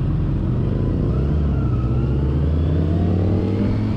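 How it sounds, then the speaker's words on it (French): A motorcycle engine revs up under throttle, a loud, continuous mechanical roar with rising pitch heard close and alone, no voices. "Là je touche à rien, la moto bouge pas, et dès que j'accélère, ça y va."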